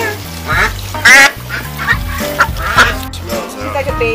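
Ducks quack loudly and close by in a backyard at a Fourth of July party, with repeated honking calls in irregular bursts while people talk and call to them.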